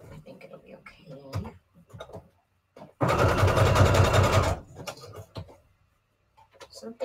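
A sewing machine stitches a tiny embellishment onto fabric in one steady burst of about a second and a half, with a person talking before and after it.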